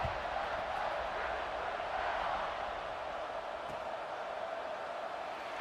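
Football stadium crowd during a kickoff, a distant, continuous roar of many voices with a steady murmuring swell and no distinct cheers standing out.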